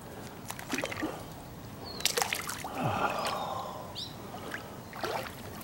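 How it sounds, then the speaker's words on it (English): Water sloshes and splashes as someone lowers into an outdoor cement swimming pool, with irregular nearby drips, trickles and small swirls, moderately quiet and without talk. "I'm going to get into the cement pond and go for a little bit"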